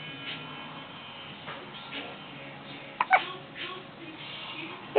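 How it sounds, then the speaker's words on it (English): Small baby hiccupping indoors, a few short sharp hiccups near the middle and one at the end, quiet and close over faint room noise and soft babbling. "You got the hiccups, baby."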